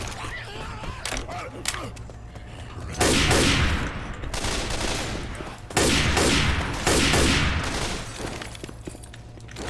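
A sniper rifle fires in the zombie shooter Left 4 Dead 2, with several sharp, loud cracks at irregular intervals over background game noise and someone talking.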